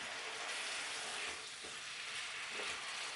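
Vegan sweet and spicy chili ingredients sizzle and fry in a pan with a steady, dense crackle throughout, close and continuous with no talking.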